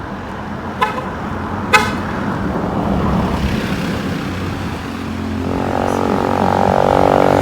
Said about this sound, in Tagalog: Lipat lang tayo ng way kasi may sasakyan.